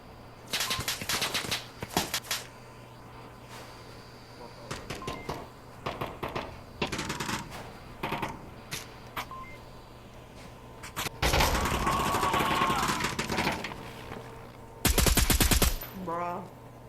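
Rapid bursts of virtual gunfire from a VR shooter on Oculus Quest played with a ProTube Magstarter, loud volleys and single shots scattered across the clip with a sustained blast of automatic fire near the middle and another at the end.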